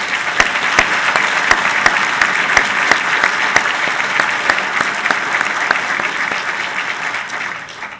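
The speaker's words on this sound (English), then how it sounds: "Let's give him another round of applause" A large audience applauds steadily after a Naval War College evening lecture, a dense and loud wash of clapping with sharp individual claps standing out, sustained throughout before tapering slightly at the end.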